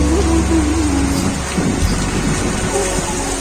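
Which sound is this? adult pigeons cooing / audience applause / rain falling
rain falling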